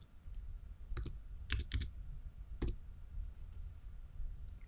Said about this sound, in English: type the following symbols.